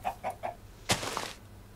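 A Minecraft chicken gives three quick, evenly spaced clucks, followed by a louder, sharper burst of noise that trails off.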